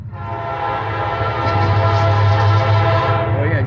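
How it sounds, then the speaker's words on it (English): A short local passenger train passing close by at Taylors, South Carolina, with a loud steady rumble, droning engine and a brief rise in rail noise, heard alone without talk. "Local train. This is gonna be train P73. Here it is. Get it as it goes by."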